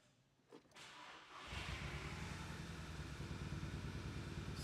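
A Lexus car engine cranks briefly, then catches and settles into a steady, loud, rough idle that continues to the end.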